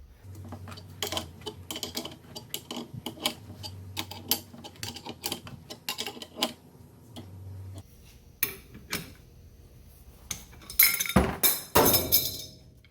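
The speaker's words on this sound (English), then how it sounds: "A wrench fell, but you can see the speed ring came right off." A metal wrench drops onto B series transmission parts during differential work, giving a burst of sharp metallic clinks and rattles near the end, after scattered lighter ticks and taps of tools.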